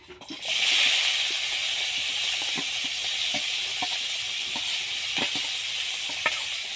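Two large diced onions hitting hot oil in a wok, bursting into a loud steady sizzle and hiss with faint clicks and spatters, no talking.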